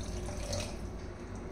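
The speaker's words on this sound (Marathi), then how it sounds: "तर मी एवढं पाणी घातलेलं आहे" Water pours steadily into a pan of matki (moth bean) curry being cooked, a continuous close splashing stream with no talk.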